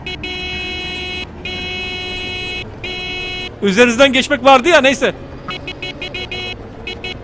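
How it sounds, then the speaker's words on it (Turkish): Long, steady blasts from a vehicle horn sound in three bursts, loud and close, followed later by a series of short, quick toots. Someone speaks over the middle. "Korna çok kötü."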